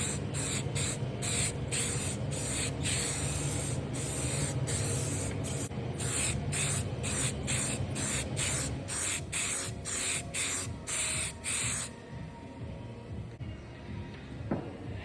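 A spray gun lays a full coat of paint on a part of a GMC CCKW truck in a cold workshop, giving a close, continuous hiss broken into a steady rhythm of short passes, with a quieter stretch near the end.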